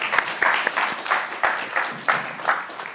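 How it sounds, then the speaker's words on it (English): Audience clapping after a presentation at a talk on conscious activism and social justice, a short burst of moderately loud applause with scattered distinct claps. "Let's give her another round of applause."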